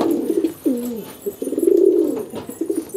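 Giribaj and Madrasi pigeons coo inside a loft, with several close, throaty rolling coos in a loose sequence across the clip and no talking.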